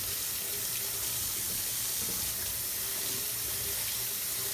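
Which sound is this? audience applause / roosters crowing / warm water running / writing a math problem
warm water running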